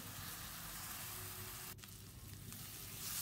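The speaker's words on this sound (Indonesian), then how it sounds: "Diaduk-aduk, ditumis sampai bumbunya benar-benar mateng." Spice paste of shallot, garlic, red chili and bird's-eye chili sizzles as it stir-fries in a wok, a faint, steady frying hiss with a brief scrape of stirring partway through.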